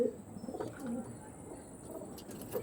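Blue ice high flyer pigeons give soft, low coos in short scattered bursts, faint and fairly distant against a quiet steady hum.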